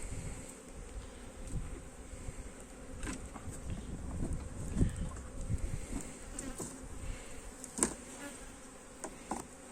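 Honeybees hum around an opened beehive in a continuous close buzz, with individual bees swelling louder as they pass near and a few sharp clicks and knocks scattered through, no talk.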